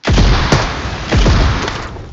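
Two heavy booming video game explosions, loud and close, each followed by a rumbling decay, with a brief gap between blasts.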